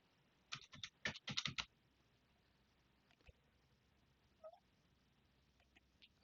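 Keyboard typing in a computer session: a quick flurry of clustered keystrokes near the start, then a few scattered isolated taps, close and fairly quiet with no talking.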